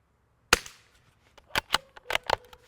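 Suppressed 9mm gunshots through a Rugged Suppressors Obsidian 9 modular silencer, fired in a backyard: one sharp crack, a pause, then a rapid string of four or five muffled pops.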